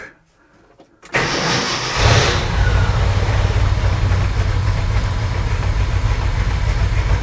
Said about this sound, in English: So let's take it out of gear, give it some gas, pull the choke.